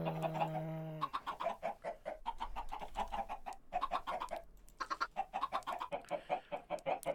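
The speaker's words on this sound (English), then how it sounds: "So we're going to spawn in a couple of chickens real quick." Chickens cluck in quick, rhythmic bursts on a video game farm, close and clear with no talk.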